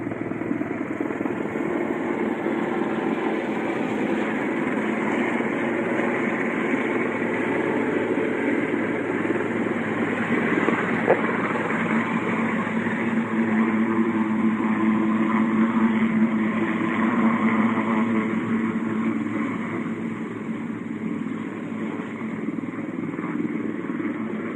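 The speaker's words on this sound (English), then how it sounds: "We've got a helicopter just coming into land." A loud, continuous helicopter engine and rotor roar drones on without a break, swelling slightly as it draws close, with no talking.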